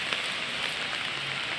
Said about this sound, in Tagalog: Umuulan kaya basa.